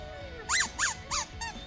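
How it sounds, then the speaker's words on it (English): A squeaky dog toy is squeezed four times in quick, even succession, loud and close, with the last squeak softer, over a steady low background hum. "watch when I squeak a toy"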